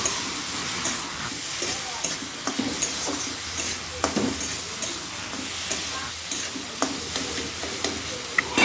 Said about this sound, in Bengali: এভাবে ভাজতে ভাজতে দেখবেন কুমড়োটা অনেক সেদ্ধ হয়ে গেছে